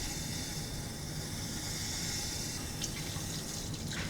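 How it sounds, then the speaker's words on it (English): Tap water runs steadily into a sink while hands are washed with soap, a faint, even splashing hiss throughout, with a few brief louder splashes near the end and no voices. "Wash your hands using soap and water for 1 minute."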